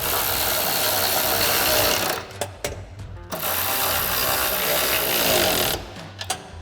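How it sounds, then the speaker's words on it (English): Ratchet cranking down 10mm lock nuts on support brackets for Barricade HD drop side step bars on a Jeep Wrangler JL, a dense steady clicking run that pauses briefly, then resumes close up. "We're gonna go ahead and tighten down our two 10mm lock nuts on each of our support brackets that go to the pinch welds"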